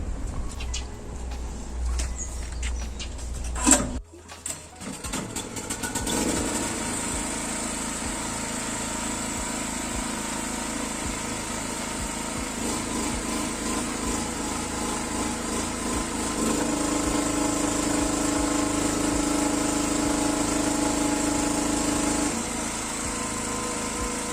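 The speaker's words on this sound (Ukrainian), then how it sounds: "Як бачимо, цей генератор не тягне 3 кВт." A Zegor 3.3 kW gas-petrol generator with an aluminium winding drones steadily under a 3 kW test load, with a few sharp clicks near the start before the engine note settles and grows slightly louder, no voices.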